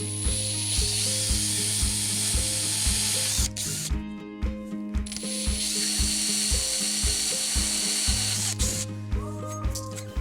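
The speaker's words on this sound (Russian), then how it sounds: "Попробуем сверлить." A drill with a hand-sharpened bit cuts steel, giving a rapid, loud mechanical whir with regular rhythmic pulses, pausing briefly midway before the drilling resumes.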